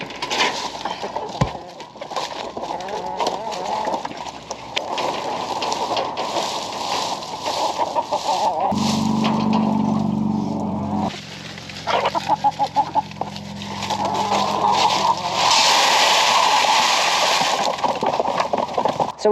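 White leghorn chickens cluck and squawk in a backyard flock, busy overlapping calls near the microphone with some background noise and a low hum partway through.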